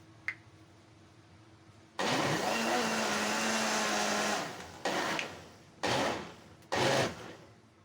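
Kitchen blender grinding raw mango for sharbat, starting with a loud whirring buzz for about three seconds, then three short pulsed bursts, near and alone.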